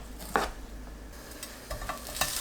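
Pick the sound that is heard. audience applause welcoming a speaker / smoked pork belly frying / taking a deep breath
smoked pork belly frying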